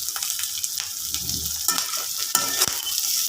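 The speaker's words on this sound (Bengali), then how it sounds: "এই পেঁয়াজ কাঁচামরিচ ভাজাটা দেওয়া হবে ডিমের সাথে" Chopped onion and green chilies fry and sizzle in hot oil, a close, steady crackling hiss with spatula stirring scrapes and a few sharper clinks throughout.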